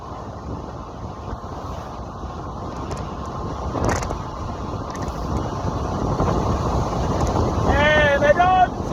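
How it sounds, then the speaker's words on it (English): Strong buffeting wind roar from driving at speed, a dense steady rush that builds gradually, with a brief gust near the middle and a voice speaking faintly near the end. "it's so windy, and that's just because of the speed."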